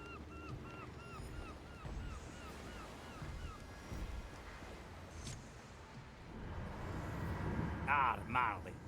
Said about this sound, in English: Hear the waves singing.